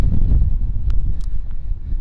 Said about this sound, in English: it's so windy once you come over that top